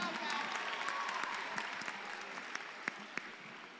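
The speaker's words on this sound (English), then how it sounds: "A round of applause to the teams." A crowd at an AI hackathon event in Rwanda applauds the teams. The applause is a faint, distant, sustained clatter of many hands, with a few louder single claps near the end.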